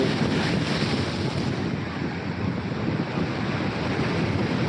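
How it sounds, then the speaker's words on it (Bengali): Rough sea waves surge and crash continuously onto Digha Beach, a loud, dense roar mixed with heavy wind buffeting the microphone and no voices. "ভয়ঙ্করভাবে ঢেউ উঠছে ঢেউ উঠে আসছে প্রচুর গতিতে জল ছুটে আসছে"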